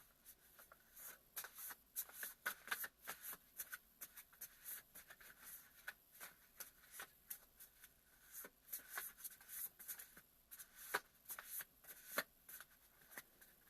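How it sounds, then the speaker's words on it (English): Tarot cards from a Hermetic deck being shuffled and drawn, a faint, steady run of quick papery riffles and soft flicks close by in a quiet room. "let's pull some cards from the Hermetic Deck"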